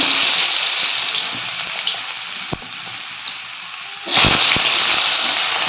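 Potatoes dropped into hot oil for a plain cauliflower dish sizzle loudly and steadily, with a sharp burst of fresh frying near the end as more go in, close and continuous with no talk.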